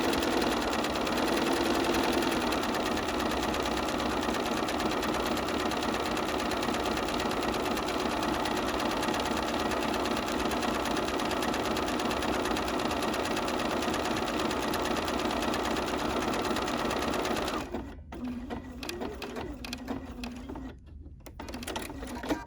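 A sewing machine stitching decorative stitches on a fabric postcard, a steady rapid mechanical whir running continuously, then breaking into short stop-start bursts near the end.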